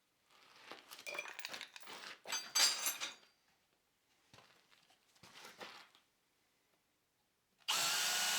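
A power drill boring pilot holes into a wooden anvil stand, with several short bursts of whirring and grinding separated by pauses, followed by a loud abrupt burst of noise at the end.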